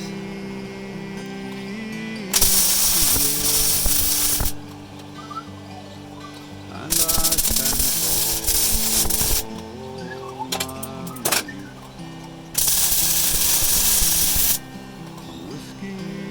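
Welding seams on the cab of a 1960 Ford F100 gives three loud bursts of crackling, hissing arc noise, each a couple of seconds long, with quieter workshop hum and clatter between them.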